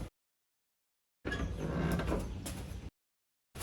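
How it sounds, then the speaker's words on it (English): A car's parking brake is pulled on in one steady, rasping mechanical stroke lasting over a second, close and alone, framed by brief bursts of noise before and after. "I'm going to engage the parking brake, and that should not happen."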